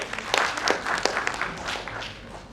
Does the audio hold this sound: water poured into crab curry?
no